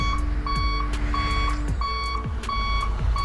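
Steady, evenly spaced reversing beeps from a Hino FM 350 truck in Euro Truck Simulator 2, a clear repeating high tone over the constant low drone of the idling engine.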